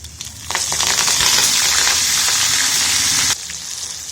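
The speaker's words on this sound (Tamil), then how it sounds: "மெயினாக மிளகு ஜீரகம் கருவேப்பிலை அதை தாளித்து போட்டணும்" Black pepper, cumin and curry leaves hit hot ghee with a sudden loud sizzle and crackle that holds steady for about three seconds, then drops back to a quieter frying hiss.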